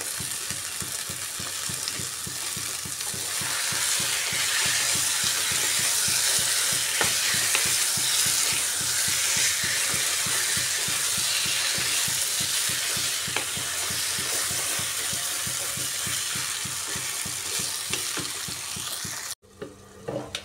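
Chicken pieces frying and stirred in a pan with four or five green chillies, a loud continuous sizzle with rhythmic scraping strokes, cutting off abruptly near the end.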